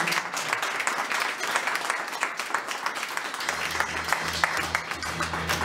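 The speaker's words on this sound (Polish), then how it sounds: "Państwo klaszczą." An audience at an exclusive banquet in a Warsaw restaurant claps steadily for several seconds. The dense applause is moderately loud, with a low hum joining partway through.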